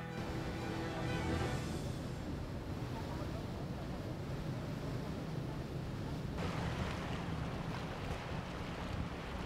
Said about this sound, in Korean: 오늘도 낚시선의 힘찬 엔진 소리는 꾼들의 발길을 재촉한다